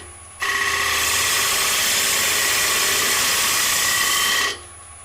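A wood lathe spins as a gouge cuts an ogee bowl, taking a heavy, fast cut; a steady, loud whirring and scraping hum holds for about four seconds, then drops away abruptly, with no talking.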